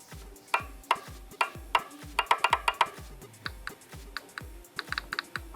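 Sharp plastic clicks of a racing wheel's paddle shifters tap out in an irregular series, some quick doubles and bursts, close and fairly quiet with no talking.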